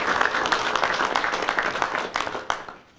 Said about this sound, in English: Y'all need to give Cornell Wilson a round of applause